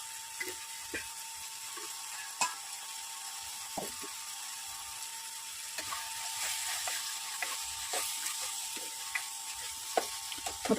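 Tomato and onion cook in a pan for a masala toast filling, giving a soft, steady sizzle with occasional faint scrapes and clinks of stirring, quiet and without talking.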